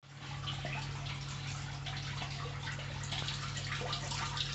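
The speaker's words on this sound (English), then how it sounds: "So I'll turn the water on, see if it works." Water pumped into a snake tank's water feature runs in a continuous, faint, even hiss over a low electrical hum.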